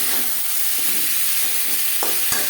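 Ginger and green chilli paste being stirred into potatoes frying in a pan for a Bengali pabda fish curry, a steady close sizzle with soft scraping strokes and a couple of sharp utensil clicks near the end.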